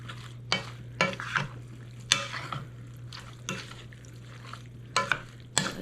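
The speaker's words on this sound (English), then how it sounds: "Let's give it a stir." A spoon stirs homemade Rotel in a pot on the stove, making repeated scraping, clinking strokes over a low, steady simmer hum, moderately close, with no one talking.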